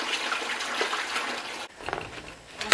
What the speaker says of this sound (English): I'm just going to put them into some water, just give them a rinse